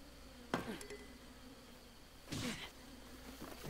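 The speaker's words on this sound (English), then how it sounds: "And it's already going to be destroyed by these bees." Buzzing swarm of bees attacking in The Legend of Zelda: Breath of the Wild on Nintendo Switch, two short bursts of insect drone with faint impact sounds over a steady game background hum.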